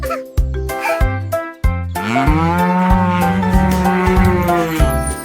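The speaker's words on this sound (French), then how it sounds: "il meuglait de joie" A cow moos loudly and up close in a long, drawn-out call over a musical backing, after a few short rhythmic sounds at the start.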